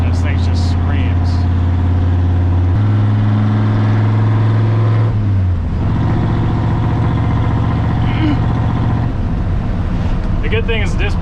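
A high-compression Ford F100 pickup engine rises and falls under throttle while driving, loud and close from on board, its rumbling note stepping up in pitch then dropping back between pulls.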